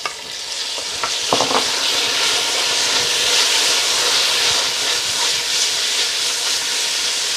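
Tomatoes hit a hot pan of mutton pilau masala with a loud, steady sizzle and hiss of frying that holds close and constant throughout, with a few faint clinks early on.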